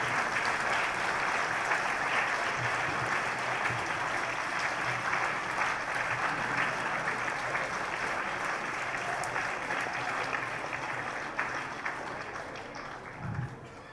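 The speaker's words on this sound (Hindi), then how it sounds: "जब तक हमारे अतिथि मंच पर नहीं आ जाते आपकी तालियां बंद नहीं होनी चाहिए" Students at a girls' college Independence Day cultural programme clap continuously as guests walk to the stage, the applause steady and moderately distant, then thinning slightly near the end.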